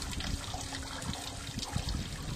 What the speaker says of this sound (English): This is just mostly water flushing out the radiator